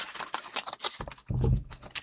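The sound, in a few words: shuffling tarot cards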